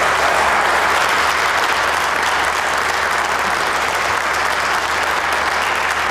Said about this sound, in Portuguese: Não vamos perder tempo com as palmas.